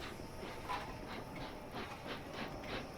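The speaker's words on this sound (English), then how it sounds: "There's a Gatwick Toulouse North train coming in." A passing train on the London to Brighton line, heard from aboard another train: rhythmic clickety-clack of wheels over rail joints with a steady rumble and hiss, moderately loud and continuous.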